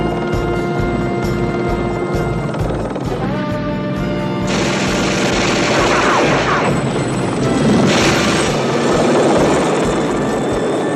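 Bearcat helicopter firing its 20mm cannon in a TV action series, with steady rotor thumping underneath and repeated heavy bursts and impacts crashing in over it, loud and close.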